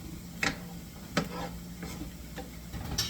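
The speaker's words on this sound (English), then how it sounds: "We're working on the sauteing of the onions and celery" Onions and celery cooking in a pan give a faint, low sizzle, broken by a few sharp scrapes and taps of a utensil against the pan at irregular intervals.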